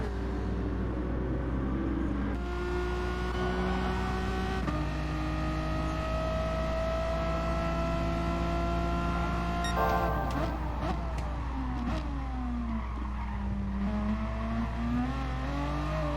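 A Dodge Viper engine drones and revs through upshifts in a racing video game, pitch climbing steadily then dropping at gear changes, loud and continuous with other cars audible.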